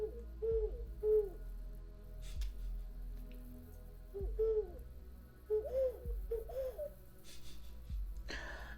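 A human voice imitates an owl hooting, giving several short, breathy hoo calls in small clusters, close and fairly loud, with low background sounds between them.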